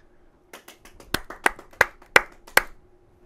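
A handful of hand claps in a video game, starting soft and scattered, then several louder sharp claps spaced about a third of a second apart, fairly close.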